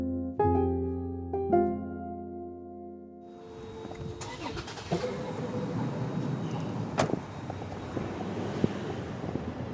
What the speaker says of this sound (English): Driving home after the interview, I share with Zach some of my doubts